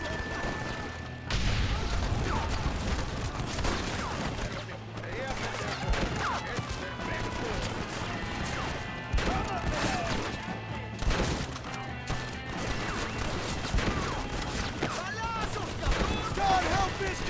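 Machine gun fire in the Western game Red Dead Redemption, a steady stream of rapid shots and crashes across the battlefield at moderate loudness, with speech mixed in.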